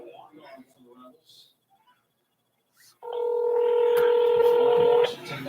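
A telephone dialing for a call: a steady two-tone dial signal holds for about two seconds after a stretch of someone speaking and a short silence, with faint clicks over the tone.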